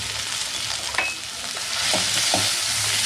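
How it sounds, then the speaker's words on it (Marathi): Mashed potato with a spice mixture of coriander, salt, chilli and turmeric sizzles in a pan under close stirring, with a steady frying hiss and a few soft scraping strokes. "तर आता हे परतून घेऊया हा सगळा मसाला जो आहे तो व्यवस्थित आपण मिक्स करून घेऊया"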